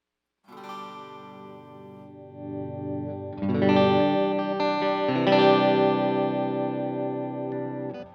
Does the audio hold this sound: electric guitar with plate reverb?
yes